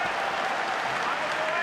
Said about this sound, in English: Big cheer from the Czech crowd.